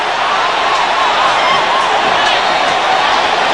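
A packed crowd roars continuously at a 1999 West Indies vs Australia one-day cricket match in Georgetown, Guyana, during the last over; the loud, unbroken cheering stays near, with commentary faintly beneath it.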